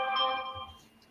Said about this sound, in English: Oh, that's my phone telling me we're live.